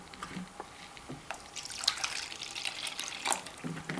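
Water is poured into a bowl for watering grape seedlings, a close trickling, splashing pour lasting a few seconds.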